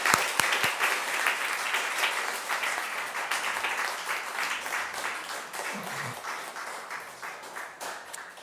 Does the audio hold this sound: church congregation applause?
yes